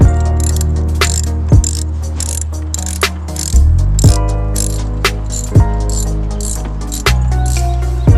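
A hand ratchet clicks in quick, repeated sweeps with a few sharp knocks between strokes, close and loud, working on a BMW E46 steering wheel during removal.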